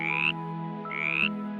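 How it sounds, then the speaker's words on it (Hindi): A cartoon frog croaks twice in a Hindi animated story, two bright rising calls over a steady tonal musical drone, close and clear with no talking. "मेंढक बड़ी मनमोहक आवाज में टर टर करके कहता है"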